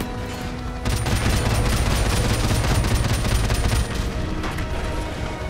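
A sustained, loud burst of rapid machine gun fire in the 2007 Call of Duty: Modern Warfare remastered, roaring continuously for about three seconds, then easing into lighter firing and rumble.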